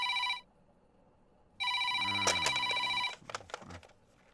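A telephone rings with a bright repeating electronic tone in two bursts separated by silence, followed by a few short clicks and beeps, with no one talking.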